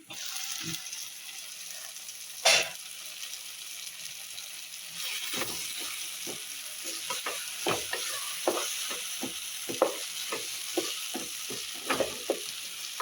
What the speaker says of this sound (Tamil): வதக்கிக்கலாம். இது நல்லா வதங்கணும். தக்காளி வதங்கி எண்ணெய் பிரிஞ்சு வர்ற வரைக்கும் நம்ம வெயிட் பண்ணலாம்.